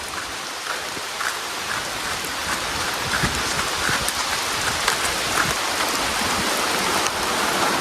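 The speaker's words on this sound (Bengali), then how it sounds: "আর প্রচুর বৃষ্টি আসতেছে, প্রচুর।" Heavy rain pouring in a forest, a steady broadband hiss of drops pattering on surfaces that holds close and loud throughout, with scattered sharper drip impacts and no talking.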